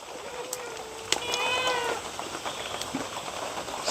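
A cat gives a few faint, short meows against a quiet background of light rustling at a house repair site, with no talk.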